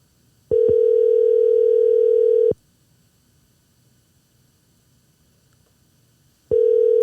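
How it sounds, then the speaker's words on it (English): An outgoing phone call rings back with a steady, loud single tone of about two seconds, then roughly four seconds of silence, then the tone starts again, heard alone without voices. "I'm gonna go ahead and try to call"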